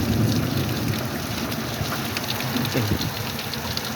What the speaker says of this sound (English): Oh, you can hear the thunder.